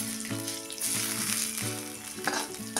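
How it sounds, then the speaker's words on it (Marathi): Urad and mung dal toast in a pan for a rava idli premix, giving a steady close crackling fry with no talk. "ही ह्यामध्ये टाकून डाळ चांगली लालसर होईपर्यंत आपण आता हे परतून घ्यायचं आहे।"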